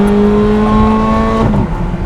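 A Ferrari sports car pulls away on an open road with a loud, steady engine drone whose pitch holds, then shifts near the end as the gear changes. No voices.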